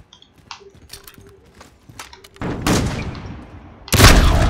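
AUG rifle fire in Call of Duty Modern Warfare: scattered faint clicks and distant pops at first, then two loud, dense bursts of close automatic gunfire crashing in near the end.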